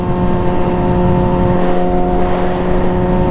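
A Yamaha R6 sport motorcycle accelerating hard from a standstill, a loud, continuous high-revving engine drone with strong steady tones and no talk over it.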